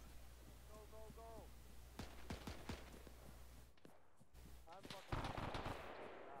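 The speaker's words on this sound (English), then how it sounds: "Machine gun northeast." Machine-gun fire in a WWII Operation Market Garden video game, with sharp bursts and scattered shots over a rumbling battlefield background while players talk.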